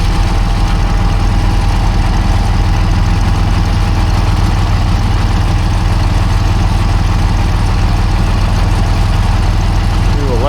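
A G950 tractor engine idles loud and close with a steady low rumble and vibration, holding an even rhythm the whole time and no voices over it.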